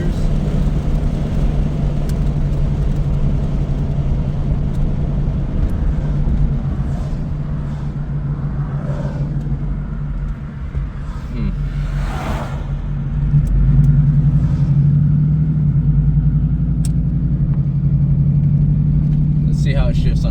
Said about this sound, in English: See how it shifts under the light throttle.